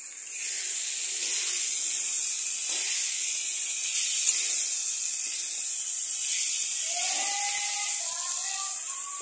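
Cumin spice paste sizzles and hisses loudly in a hot pan as the base for a Bengali mutton curry, a continuous close frying sound with faint clinks underneath.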